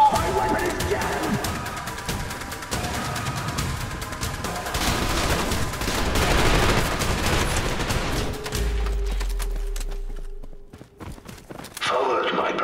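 Dense, loud gunfire fills a firefight in the shooter game Trepang2, with rapid overlapping bursts that cut off into a low hum and near silence before shots resume.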